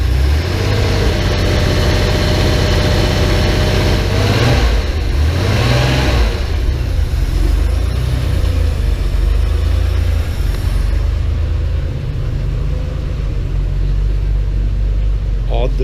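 A Porsche 911 engine runs steadily after ten years in storage, a loud, close, even rumble with a brief rise in revs early on, then settling to a smooth idle.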